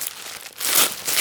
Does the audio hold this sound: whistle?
no